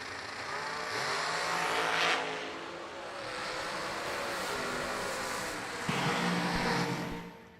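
Drag racing cars roar off the line and down the strip at a high-stakes race, a sustained loud engine scream that swells, eases, then surges again as a second burst of revving power rises near the end.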